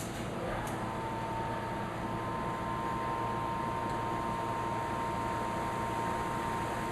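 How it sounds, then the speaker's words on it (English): Black & Decker fan and isolated electric motor running at high speed, giving a steady, even broadband whir with a faint constant tone throughout, close and unchanging, with no voices. "Now basically what you're going to hear is a fan noise."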